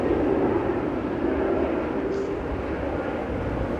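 A Ryanair Boeing 737-800 on short final touches down at Manchester Airport, a steady, fairly loud jet rumble that holds briefly and then eases slightly as the aircraft settles.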